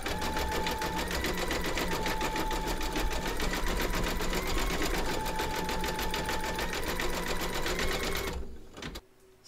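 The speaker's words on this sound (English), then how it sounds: "We're now going to stitch round number 7, and that's going to zigzag around the edges here" A sewing machine runs a zigzag satin stitch in grey thread around the edges of an appliqué bunny piece, its rapid, even needle chatter continuing steadily for several seconds before stopping abruptly.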